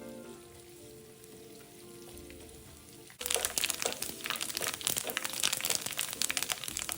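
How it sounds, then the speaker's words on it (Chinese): Dried anchovies dropped into hot oil over medium heat, the quiet kitchen bursting suddenly into a loud, dense crackling sizzle that keeps on steadily and close. "倒入备好的江鱼仔，中火一直油炸至金黄色"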